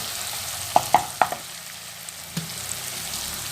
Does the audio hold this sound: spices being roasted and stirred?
yes